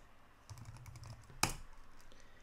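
Computer keyboard keys tap softly in a short run while SQL code for IBM i is entered, ending in one louder sharp keystroke, close and quiet with no talking.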